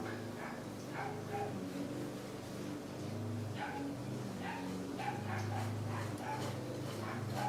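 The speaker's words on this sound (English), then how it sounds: "probably barking at the lawnmower" Distant yips from a small dog recur in scattered bursts over the constant hum of a lawnmower running nearby outdoors.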